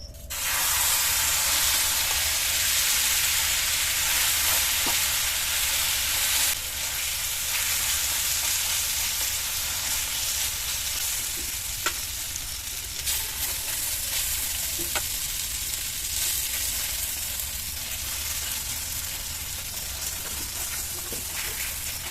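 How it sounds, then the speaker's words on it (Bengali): A pumpkin mixture fries in mustard oil on a flat griddle, giving a steady, dense sizzling hiss that runs unbroken throughout, with a few faint clicks and pops along the way. "এবার যে কুমড়োটা আমি মিশিয়ে রেখেছিলাম সেটা তাওয়ার উপরে দিয়ে দেবো।"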